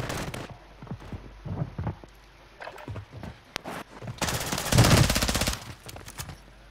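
Gunfire in the shooter game Warzone 3 comes as scattered single shots followed by a loud sustained automatic burst of about a second and a half.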